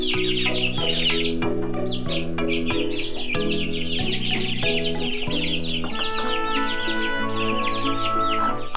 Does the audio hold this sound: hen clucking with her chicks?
yes